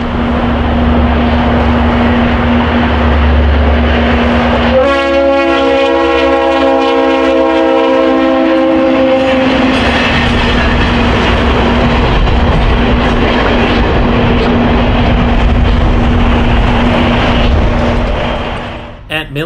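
A freight train on Chicago's South Shore line rumbles past close by near Gary, its horn sounding repeated loud blasts partway through over the steady roar of wheels and cars.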